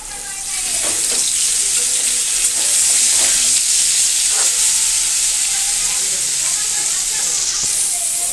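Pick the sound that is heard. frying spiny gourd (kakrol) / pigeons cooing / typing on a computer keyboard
frying spiny gourd (kakrol)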